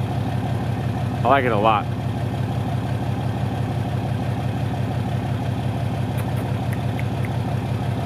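A 6.7 Cummins diesel with straight pipe exhaust idles in a steady low pulsing rumble, close and even throughout, while someone speaks briefly over it.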